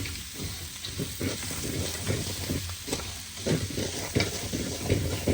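Vegetables for chicken kothu parotta are stirred and fried in a pan: a constant close sizzle with frequent scraping and tapping from the spatula, loudest in the second half, and no one speaking.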